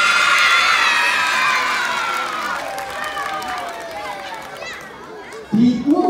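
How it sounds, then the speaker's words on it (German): Children cheering and shouting at a school sports day outdoors, a loud crowd roar with high voices that slowly fades, scattered clapping underneath, and a sudden close voice burst near the end. "Applaus!"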